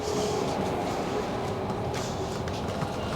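A passenger train, its locomotive hauling a line of carriages, gives a steady, loud rumble with a faint hum from inside a carriage while travelling through forested country.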